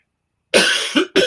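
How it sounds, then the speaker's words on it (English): A person coughing in a close, loud, dry burst, followed by a second short cough after a brief pause, with no talking. "I'm sorry for coughing"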